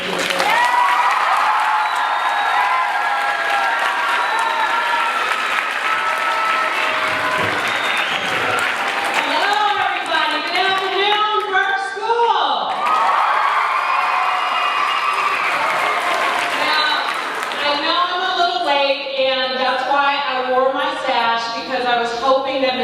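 Sustained, loud applause from an audience welcoming a new board member at an International Women's Day event, lasting over twenty seconds with cheers and shouted voices mixed into the dense clapping.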